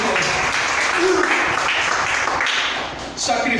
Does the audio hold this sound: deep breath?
no